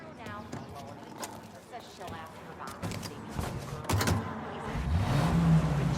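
A car drives in the video game Mafia: Definitive Edition, its low engine hum rising toward the end beneath steady conversation between two people, with faint street noise around it.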